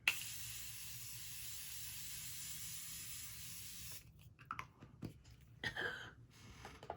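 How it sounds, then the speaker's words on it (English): Morphe Continuous Setting Mist is sprayed onto a face as one steady, close hiss lasting about four seconds, then gives way to soft rustling and handling noises. "Let's spray. This is my Morphe Continuous Setting Mist."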